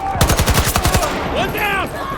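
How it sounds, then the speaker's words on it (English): Rapid automatic gunfire in Call of Duty sounds as a loud, close burst of evenly spaced shots, followed by scattered quieter reports and game sound effects. "Shoot any tango who gets near them."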